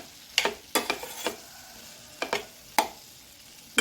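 A cucumber chutney base frying in a pan, with a low sizzle broken by several sharp utensil scrapes and taps at irregular moments, near and fairly quiet, no voices.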